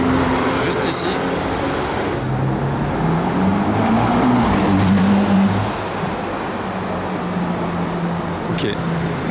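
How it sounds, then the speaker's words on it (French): A Ferrari Valhalla supercar sweeps past on a Monaco street, its engine note rising and falling as it approaches and moves away, over steady roadside traffic noise with people talking nearby. "une Valhalla, c'est impressionnant quand ça arrive, mais c'est pas hyper bruyant"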